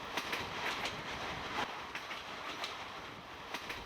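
A train runs steadily along the rails at night, with a continuous rumbling roar and faint recurring clicks of the wheels over track joints, close and sustained throughout.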